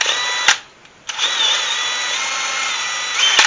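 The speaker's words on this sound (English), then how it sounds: "I'm careful not to drill into the tenon itself" A power drill drills into the wood of a vanity bench frame near the leg, whining steadily at high pitch, briefly stopping and restarting, running continuously close by with no voices.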